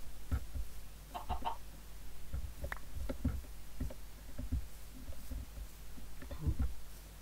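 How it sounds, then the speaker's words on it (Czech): Soft, scattered clucking of a chicken in Minecraft, several short clucks in irregular bursts, faint against a low steady background. "Já jsem předtím tady slyšel kvokat slepicu."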